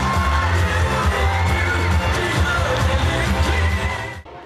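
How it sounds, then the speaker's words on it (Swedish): A crowd in a hall applauds and cheers loudly and continuously at a handball club season-end celebration, a dense wash of clapping with whoops, cutting off abruptly at the end. "Och ge dem nu applåder när de kliver ner."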